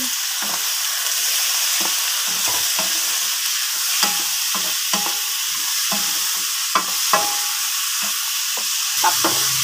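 Chicken sautés with onion in a pan, giving a constant close sizzle and hiss. Repeated scraping stir strokes cut through it in an uneven rhythm.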